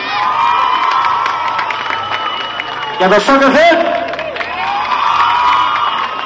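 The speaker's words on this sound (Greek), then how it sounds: "Δυνατό χειροκρότημα για σας πάνω απ' όλα." A carnival crowd in Amarynthos cheers and shouts, swelling in a loud burst of whoops and clapping midway, with an announcer talking over an amplified PA.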